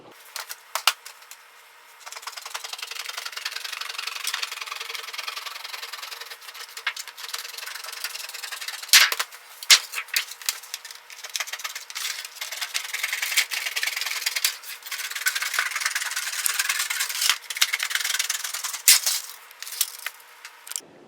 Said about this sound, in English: Now what we're going to do is we're going to cut our pattern out.